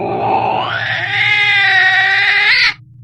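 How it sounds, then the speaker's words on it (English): Cat giving a loud, drawn-out strained yowl with a rising, harmonic tone, lasting nearly three seconds before cutting off abruptly, set over a steady low background hum. "the cats that were there all hissed and ran away from us"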